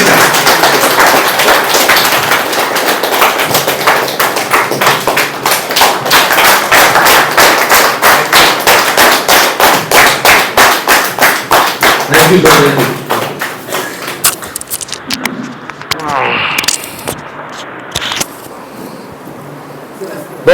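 Sustained loud applause from a seated seminar audience in Mandi, Himachal Pradesh, dense rapid clapping that runs steadily for many seconds before thinning out into scattered claps and murmuring.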